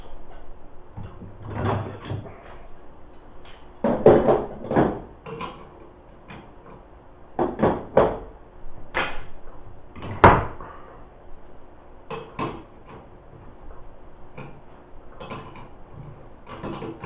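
Metal knocks and creaks while a washer-fitted part on an adult tricycle is tapped loose during assembly, a series of sharp close impacts and scraping clanks spread irregularly, with no talk.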